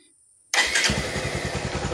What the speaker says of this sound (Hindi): अभी बाइक काम स्टार्ट करेंगे